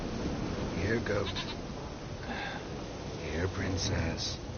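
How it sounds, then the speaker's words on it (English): Goat bleats in The Witcher 3 video game, several short wavering calls spread across a few seconds over steady game ambience, with someone speaking between them. "Here, goat."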